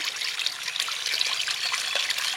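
Water pours steadily out of a pot beside a fish pond after small puti and mourala fish are caught, making a continuous close, bright splashing trickle with no talking.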